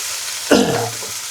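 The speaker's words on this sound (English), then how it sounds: "we're going to add 250 milliliters of that about. And that will also help to deglaze the pan" Red wine poured into a hot pan while deglazing for beef stew, a sudden close hiss of sizzling that swells then fades over about a second amid steady frying noise.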